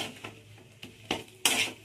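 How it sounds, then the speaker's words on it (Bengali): A utensil scrapes and clinks against a pan while a fish chop mixture is stirred, four short metallic knocks spaced apart and growing louder, close up with no talk. "এবারে আমি এটাকে ভালো করে নেড়ে চেড়ে ভাজা ভাজা মতো অল্প করে নেব"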